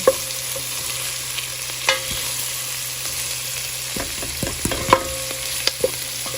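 Onion, garlic and ginger frying in a pan, a soft steady sizzle close by with a faint hum beneath and occasional clinks and scrapes of a utensil stirring, no talking.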